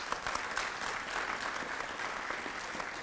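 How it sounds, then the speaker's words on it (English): An audience gives a round of applause at a Hilton Hall of Fame ceremony, steady dense clapping from many hands filling the room at moderate distance. "If we can give her a round of applause"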